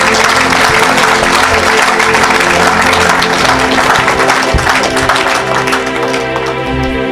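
A church congregation applauds loudly and steadily, a dense wash of clapping with crowd noise and faint voices mixed in throughout.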